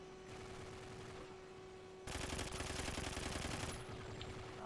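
Automatic gunfire rattles in rapid bursts during a Call of Duty: Ghosts multiplayer match, with a sustained loud burst in the middle over a constant electronic hum.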